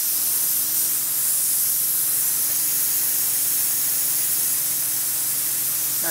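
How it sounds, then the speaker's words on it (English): A dry ice cleaning gun blasts a steady, loud hiss for several seconds as it purges condensation from its line during undercarriage work on an E36 M3, continuous and close with no talk. "first thing we gotta do is purge that condensation out of the line"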